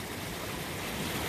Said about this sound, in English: So this is supposed to be a rocky brook that we're supposed to be able to cross.